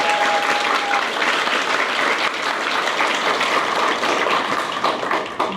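A graduation audience applauds parents, guardians and extended family, with steady, dense clapping from a sizeable crowd that stays even and fairly loud throughout, with no voices on top.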